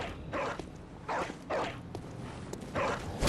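A hostile dog in the video game Bloodborne gives several harsh, loud barks in separate bursts over a noisy, rumbling backdrop of game sound.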